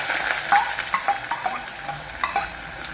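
Sliced small shallots frying and being stirred in a pan for vatha kuzhambu, a steady close sizzle broken by several sharper stirring scrapes and spatters, with no talking.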